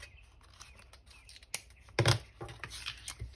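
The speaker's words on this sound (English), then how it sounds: "And then we're going to cut this part out" Scissors cut paper for a junk journal coin pocket, giving a few crisp close snips and rustles with a louder cluster midway, then softer paper handling.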